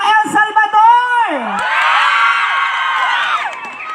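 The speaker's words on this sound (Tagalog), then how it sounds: "gusto ko po muna marinig ang palakpakan na may kasamang hiyawan ng mga kababaihan ng El Salvador" A crowd of women at a lively gathering in El Salvador cheers and whoops, with a loud rising shout that swells into a sustained chorus of voices, lasting a few seconds.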